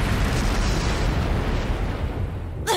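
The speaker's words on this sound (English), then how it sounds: "Flash grenade!" A flash grenade explodes in Trails of Cold Steel III, a loud sustained roaring blast filling nearly three seconds before cutting off abruptly into a brief tonal game effect.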